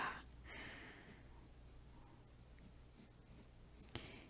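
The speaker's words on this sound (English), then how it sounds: "I really love drawing insect legs." A pen scratches across paper while drawing the hairy legs and tarsal claws of a vinegaroon, faint and steady strokes with a brighter scrape near the start and end.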